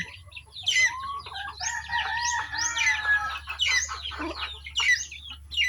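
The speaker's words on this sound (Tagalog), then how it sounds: "Ayan, mga manok ko po yan." Several chickens clucking and calling over one another, with a rooster's crow rising among the busy, continuous chatter, fairly close, over a low steady hum.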